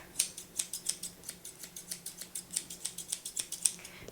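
Scissors snip repeatedly through a package at a steady rhythm, about five crisp cuts per second, close and clear with no talking.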